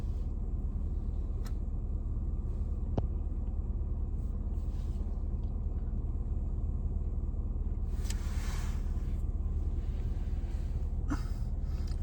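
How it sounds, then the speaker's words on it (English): A hot BMW 1 Series engine idling in neutral or park, a steady low rumble throughout with a few faint clicks and a brief hissy burst midway. "So the car is running, the engine is hot"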